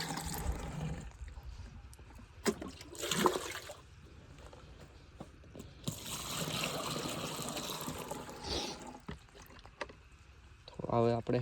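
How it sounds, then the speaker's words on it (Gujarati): Water poured into a sprayer pump tank in two gushing bursts, a longer splashing pour in the middle, with a person talking between and over the pours. "થોડુંક પંપમાં પાણી નાખી દઈએ"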